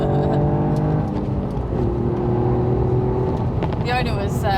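A Toyota GR Yaris hot hatch revs hard as it accelerates along back roads in third gear, a loud sustained engine drone with rising pitch heard from inside the cabin, ending with a brief gear-change flutter.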